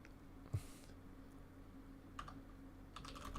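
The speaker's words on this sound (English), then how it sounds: "I'm typing" Someone types on a computer keyboard in short bursts of soft clicking keystrokes, with quiet pauses between them over a low, steady background hum.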